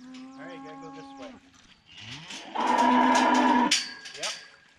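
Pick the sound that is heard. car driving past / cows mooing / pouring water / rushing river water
cows mooing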